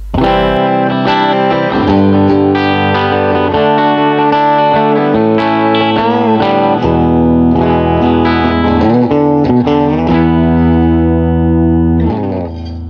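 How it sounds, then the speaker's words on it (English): An electric guitar plays through an amp's line out port, distorted chords and melodic lines with effects, loud and continuous, ending with a brief pause and a final strum. "Here's a clip of some guitar recorded through the line out port."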